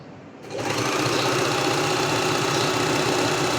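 A sewing machine starts up and stitches cloth at a fast, steady hum with a fine mechanical rattle. It runs close and loud without pause.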